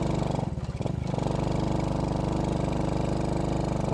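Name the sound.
motorcycle engine revved hard on steep climb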